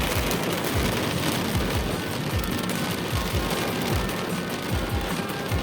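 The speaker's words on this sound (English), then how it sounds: "it's raining so bad you can't even see 2 feet in front of you" Heavy thunderstorm rain pounds steadily on a vehicle in Richmond, Virginia, a dense, unbroken roar of drops close around the listener with small repeated thumps beneath it and no voices.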